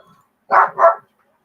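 A dog gives two quick, loud barks in a row, close by, followed by quiet.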